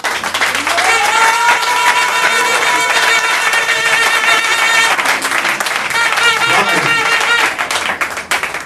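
Congregation at a church service applauds and acclaims, steady clapping mixed with music and voices, loud and continuous throughout.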